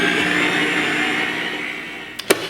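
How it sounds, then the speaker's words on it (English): A mixer fitted with a paddle whirs steadily as it works lard into pie crust flour for an autumn slab pie, a constant close motor drone ending with a couple of brief clicks. "I'm going to put down my blender and the paddle and just mix it just until it crumbles."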